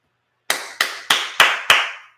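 Five sharp hand claps in a steady, evenly spaced rhythm, loud and close, mimicking a football coach's clap, with nothing else heard between them.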